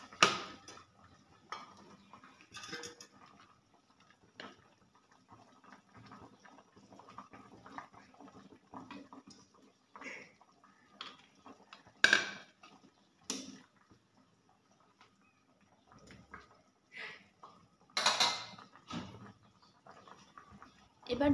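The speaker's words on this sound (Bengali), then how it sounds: "এবার ভেজে রাখা মাছগুলো একে একে দিয়ে দিব।" Fried carp pieces are dropped one by one into a cooking pot, giving scattered soft clinks and sizzling splashes near the mic, with a dog barking and someone talking in between.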